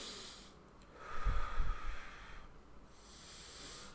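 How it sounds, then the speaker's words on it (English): A single slow, deep breath through the nose during a seated relaxation exercise: a soft, close airy rush swells and fades over a couple of seconds, with quiet pauses on either side and no talking. "keep your palms straight on your lap and breathe 4 to 6 times deeply"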